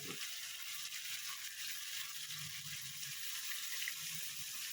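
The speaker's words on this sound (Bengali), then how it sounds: "এরপর আমি একটু জল দেবো" Water is poured into a pan of Tangra fish curry, a steady, even hiss and rush of liquid that runs close and unbroken for the whole stretch with no talk over it.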